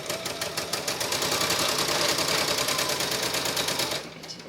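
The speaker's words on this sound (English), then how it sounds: "I'm just going to sew a 1/4 inch down each side of the line" A sewing machine runs steadily, stitching a quarter-inch seam along a quilting line, a fast even mechanical chatter that holds for about four seconds before slowing and stopping.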